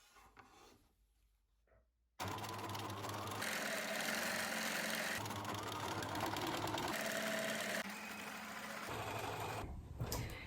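Sewing machine doing free-motion straight stitching on fabric for appliqué embroidery, a steady close whirring rattle that starts abruptly after a quiet moment and runs continuously, briefly easing near the end.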